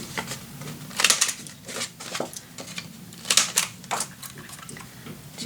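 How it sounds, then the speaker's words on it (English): Paper being cut along an edge for a Christmas-themed Graphic 45 gatefold mini album, with a run of short, crisp snips and rustles at close range and no talk. "Now I'm going to cut a nice edge."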